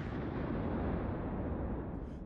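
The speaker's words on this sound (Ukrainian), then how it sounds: "Гармата!" A loud, sustained explosive roar of an artillery cannon firing at the front line fills the whole clip, rumbling and echoing without pause.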